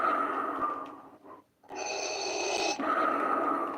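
A Black Series Darth Vader helmet plays its electronic breathing effect, a loud, close mechanical inhale, a brief pause, then a longer rasping exhale with no talking.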